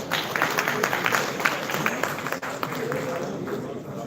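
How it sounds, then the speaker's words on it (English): A crowd claps steadily for several seconds for an expert panel at a Department of Telecommunications session, a dense wash of hand claps in a large room with no voices standing out. "Let's give a big round of applause for the expert panels here."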